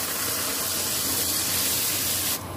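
Water pours steadily into a cooking pot of potato pulao, about one and a half times the amount of rice. A loud, continuous gushing rush runs without a break and cuts off just at the end.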